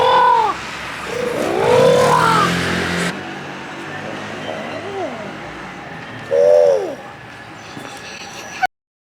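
A pigeon or dove cooing outdoors in Paris in a few repeated rising and falling calls, fairly close and clear over steady street ambience, with a louder burst of cooing near the end.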